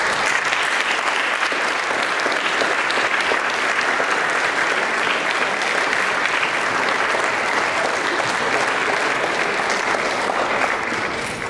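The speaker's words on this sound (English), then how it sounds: "Would you all please stand one more time and let's give them all a round of applause." Sustained, even applause from a standing audience at a graduate 'N' Club induction ceremony, a full room clapping steadily and loudly throughout with no speech over it.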